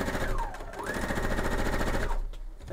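A sewing machine stitches a checkerboard quilt. Its needle chatters in a steady, fast, close and loud run, speeds up briefly, then winds down near the end, with no voices.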